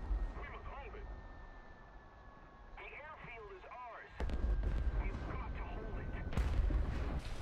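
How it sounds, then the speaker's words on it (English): A bomb hits the ground and explodes in the War Thunder video game, heard as a sudden deep blast followed by a second heavy boom over rumbling game noise, with someone speaking during the clip. "if you hold spacebar, you can watch what happens with the bomb until it hits the ground"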